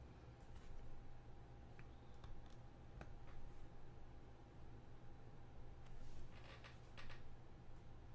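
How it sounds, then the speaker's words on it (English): Quiet typing on a computer keyboard during an online group practice session, soft scattered key clicks in short bursts over a faint background hiss. "I'm typing right now."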